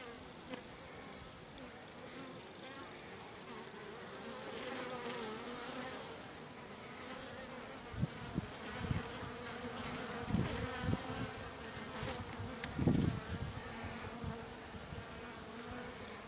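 A steady swarm of honeybees drones and hums at a hive in spring, bringing in pollen, with individual bees buzzing closer now and then against the continuous background hum.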